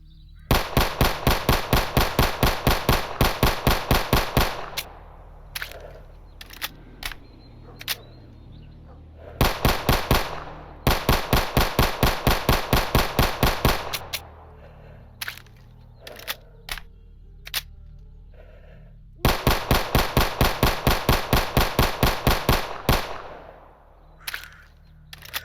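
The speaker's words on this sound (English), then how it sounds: "we got the Glock 19. Let's see what this can do." Three long bursts of rapid Glock 19 9mm pistol fire in the game S.T.A.L.K.E.R. Anomaly, each roughly five seconds of loud evenly spaced shots, separated by quieter gaps holding scattered single clicks and handling noises.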